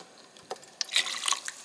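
Chicken stock is poured into a measuring cup in a home kitchen, giving short splashy trickles and drips that swell into a brief, close, gurgling pour.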